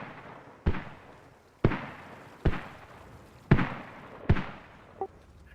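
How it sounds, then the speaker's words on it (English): Suppressive fire in a military video game: five heavy, sharp reports spaced about a second apart, each with a short booming decay, set against quiet background noise. "Browning, we've got fire coming in over your head. It's just suppressive."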